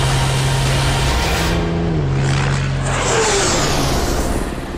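The 2400-horsepower Volvo Iron Knight racing truck roars past on a record speed run, a loud sustained engine drone that rises in pitch, then fades as it pulls away.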